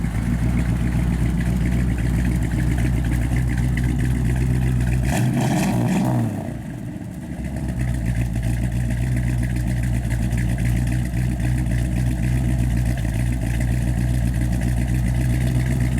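A 1956 Chevrolet 210 engine rumbles steadily at idle through 2.5-inch dual Flowmaster exhausts with a deep, throaty note, dipping briefly before settling back into a continuous low drone.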